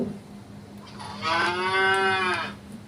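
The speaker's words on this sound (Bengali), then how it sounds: "কাউ" A cow's moo from a children's learning app, one long rising-and-falling bellow of a couple of seconds, clear and fairly loud over a faint background hum, no talk.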